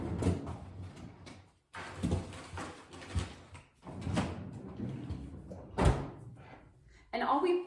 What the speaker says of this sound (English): And now we're going to throw this in the freezer.